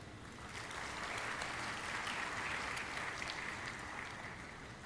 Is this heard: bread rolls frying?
no